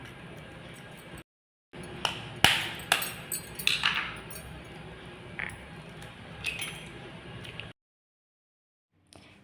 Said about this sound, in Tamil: இதில் நம்ம 2 முட்டை உடச்சி ஊற்றிக்கலாம்